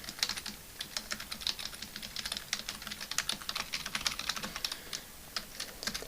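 Code being typed on a computer keyboard, a steady stream of quick, light key clicks with an uneven rhythm, quiet and close, with no talking.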